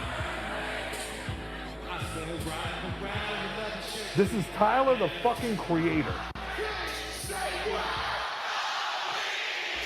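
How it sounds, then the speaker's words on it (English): A played-back recording of a concert crowd at a show, loud cheering and chanting with a voice shouting over it, surging midway before cutting off near the end. "Just to give you a fucking idea of what this crowd sounded like."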